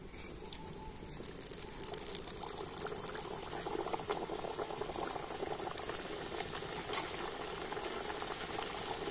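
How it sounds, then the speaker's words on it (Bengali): Flour snacks frying two at a time in medium-hot oil, a soft steady bubbling and fizzing with faint scattered pops and crackles, fairly quiet and continuous, with no speech. "আর এই গরম তেলের মধ্যে এখন জলখাবারগুলো ভেজে নেব।"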